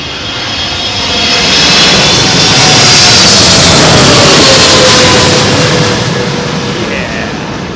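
A large jet airliner passes low on landing approach at London Heathrow on a blustery evening, its engine roar swelling, holding loud and broad, then easing slightly as it moves on.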